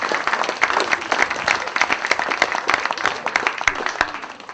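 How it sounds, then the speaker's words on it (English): An audience at a magic show claps as a volunteer is brought up on stage, brisk, dense applause with distinct individual claps, fairly close and lively throughout. "Give him a little round of applause."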